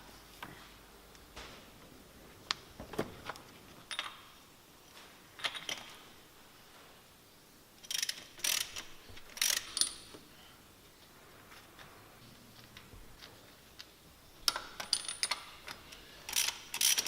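Spark plugs being worked loose from an Alfa Romeo 105 engine, with scattered metallic clicks, ratcheting and small clinks of tools and parts, close up and fairly quiet with pauses between bursts.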